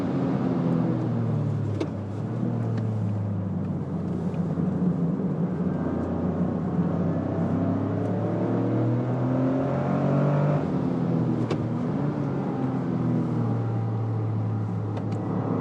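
A Toyota GR Corolla engine drones steadily at high revs on a race track, rising and falling with shifts and throttle changes, continuous and close throughout.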